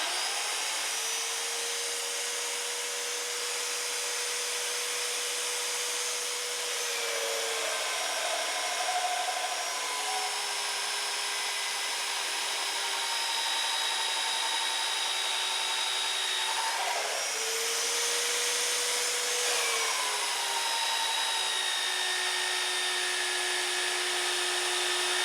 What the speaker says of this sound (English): put this mag drill to the use that I bought it for